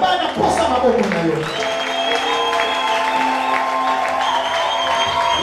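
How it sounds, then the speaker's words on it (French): In a thanksgiving church service, cheering and crowd noise rise with a voice and musical tones over a loud, busy wash of sound. Individual claps are not distinct. "Dieu a besoin de tes acclamations."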